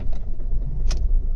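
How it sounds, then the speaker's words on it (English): A Ford Focus mk2 car being started with the key after an instrument cluster repair: a close low engine rumble with a brief metallic key jingle partway through. "turn the key, see if it'll start"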